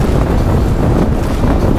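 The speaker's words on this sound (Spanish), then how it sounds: "Hace muchísimo aire, me mueve la moto un montón" Strong wind buffets a motorcycle on the road through the arid Ouarzazate region of Morocco, a steady, loud roaring rumble of gusts against the microphone with no pauses.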